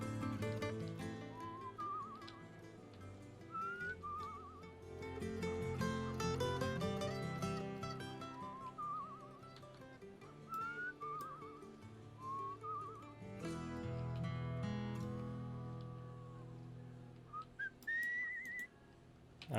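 Whistled notes from a video game rise and fall in short melodic phrases over a dense backdrop of game music and sound effects, repeating throughout at moderate loudness.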